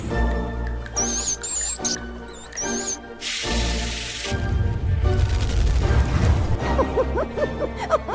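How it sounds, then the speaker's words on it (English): A video game monster cry resembling a small rat or rodent squeak, a series of loud high squeals and chirps over a busy game soundtrack with low rumbling, sounding near and prominent. "this sounds like a RuneScape rat noise"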